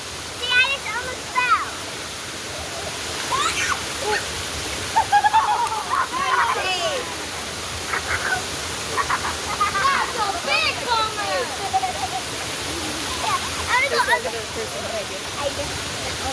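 Waterfall pouring in a steady broad rush, with intermittent voices and scattered splashes close by over the constant roar of the water.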